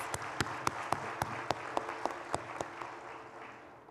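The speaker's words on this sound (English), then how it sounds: "Let's give all of our amazing volunteers a round of applause." A small audience at an event applauds its volunteers, with a few distinct nearby hand claps in an uneven rhythm over a softer patter of clapping that fades toward the end.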